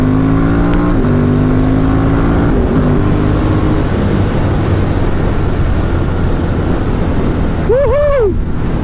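A 2018 Ducati Monster 1200S with an aftermarket SC Project or Termignoni exhaust runs loud and steady close by, its engine note rising briefly near the start and blipping at the end.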